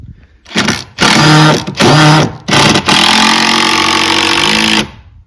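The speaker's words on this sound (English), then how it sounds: "Then I run my screws in" A power driver runs screws into a pole barn wood floor, whining loud and close in two short bursts and then one long sustained run, with brief pauses between.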